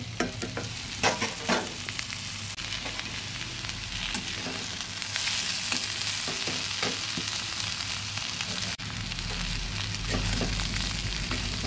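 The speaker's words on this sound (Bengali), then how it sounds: "এই কুমড়ো বরবটি ভাজি করতে গেলে আঁচটা একটু বাড়িয়ে কমিয়ে দিয়ে করতে হবে।" Chopped pumpkin and long beans fry in a pan for a vegetarian bhaji, a loud steady sizzle with repeated scraping stirs and occasional clatters of the spatula, close by.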